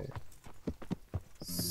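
Horse hooves clip-clop in a few quick, uneven beats in the video game Kingdom Come: Deliverance, close and fairly soft, before a brighter hissing rush takes over at the end.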